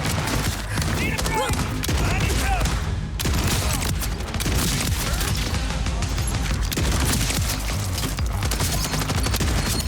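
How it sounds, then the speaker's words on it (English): Torg rocket weapon fire in the video game Borderlands 4, a dense, continuous barrage of rapid blasts and explosions with chaotic combat noise throughout and a voice speaking over it. "it can be a little tough trying to land all of the Torg rocket shots"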